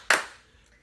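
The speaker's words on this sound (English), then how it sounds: "Let's give Cooper 2 claps on 2." A class of students claps together in a single sharp, crisp burst that fades quickly in a room.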